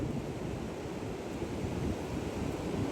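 Ocean waves on quiet Baga Beach in Goa at night in light drizzle, a continuous low roar of surf mixed with wind rumble, steady and fairly loud with no voices.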